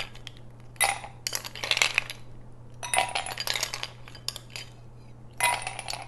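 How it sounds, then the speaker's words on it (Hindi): Ice cubes drop into two drinking glasses in bursts of bright clinking and rattling, several separate clusters of close, crisp impacts with quiet gaps between them. "इसमें हम सबसे पहले डालेंगे आइस"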